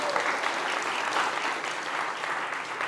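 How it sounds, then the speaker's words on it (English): An audience at a food summit breaks into steady applause, dense overlapping clapping from a crowd that fills the room at an even level throughout, with no talking over it. "you can give them a round of applause."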